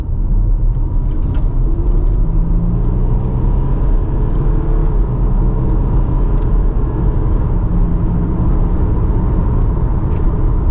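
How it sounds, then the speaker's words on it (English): A 2018 Audi Q5 Quattro accelerating hard, heard from inside the cabin as a steady, loud low engine and road rumble with a rising drone that holds for several seconds, no talking. "Let's put our foot down a little bit, see what this Q5 is about."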